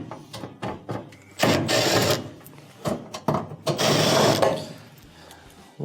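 Phillips screws are backed out of the terminal cover on an oven range, giving close, bursty ratcheting and clicking screwdriver and metal sounds in short irregular runs.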